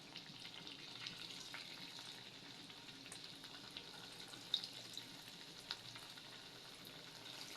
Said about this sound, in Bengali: মিডিয়াম আঁচে নাস্তাগুলো ভাজবো।